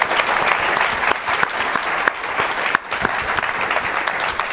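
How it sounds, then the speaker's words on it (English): Audience applause at a press freedom event with the U.S. Secretary of State, steady, dense clapping from a crowd filling the room. "Please give them a round of applause."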